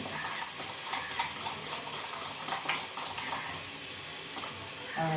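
Kohlrabi fries with fennel powder in a pan for a Kashmiri-style dum, giving a steady, even hiss and sizzle throughout with no voices.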